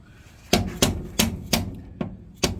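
A dead blow hammer knocks at a stuck heater core in a 1965 Chevy Nova: six sharp, close, evenly spaced blows, each with a short dull ring.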